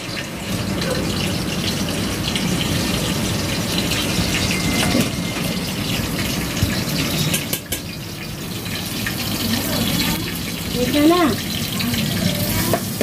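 Onions hitting hot oil in a home kitchen pan, a loud continuous sizzling hiss with bubbling and crackle that holds steady throughout, with a brief clatter near the end.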